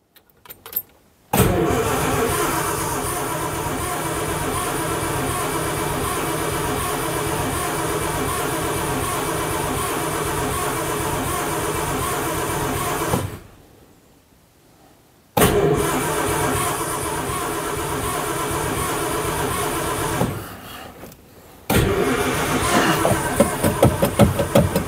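A Daimler Consort barn-find engine cranks repeatedly on the starter in long sustained bursts, with two short pauses between attempts and a fresh burst at the end, loud and close, without catching.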